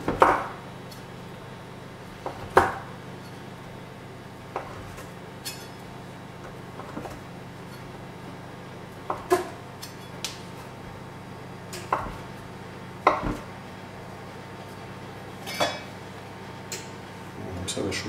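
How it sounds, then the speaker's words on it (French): Knife slicing a camembert into small pieces and thin slices on a board, soft irregular taps and clicks spread across the clip over a quiet kitchen background. "Donc on le coupe, tout simplement, ça, des petits morceaux, des petites tranches."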